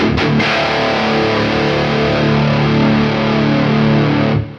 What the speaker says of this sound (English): That's gain all the way up, but it still stays really tight in the bottom end.